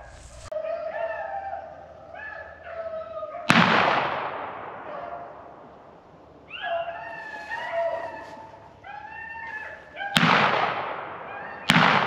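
Shotguns fire during a rabbit hunt with beagles in South Carolina, two sharp loud reports cutting through steady baying from hounds at moderate distance, then another shot near the end.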